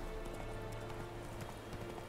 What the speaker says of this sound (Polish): No i spoko, koń biegnie.